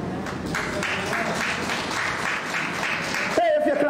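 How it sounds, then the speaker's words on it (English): A church congregation claps along during a standing worship moment, a steady dense patter of hands under voices and music, with a sung or spoken tone rising near the end. "Hey, if you're clapping, you know what you got to do."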